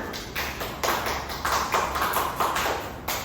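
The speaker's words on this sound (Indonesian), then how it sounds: "beri aplaus kepada Lena." A classroom audience applauds a group presentation with brief, fairly faint clapping of several hands over a few seconds, no voices.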